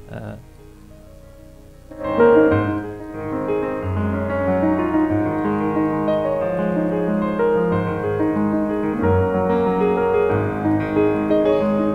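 Piano music plays steadily with sustained chords and a flowing melody, starting after a brief quiet moment and staying moderately loud throughout.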